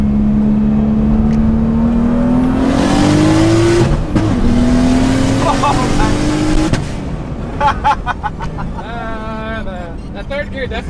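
A single-turbo BMW 335i pulls hard through the gears, engine note and high turbo whine climbing with each shift before easing off, loud and close inside the car, with excited talk over the end.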